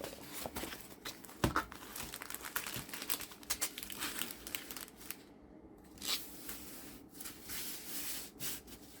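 Diamond painting kit packaging from Skyyue is opened up close, giving irregular rustles, rubs and plastic crinkles with one brief quiet pause partway through.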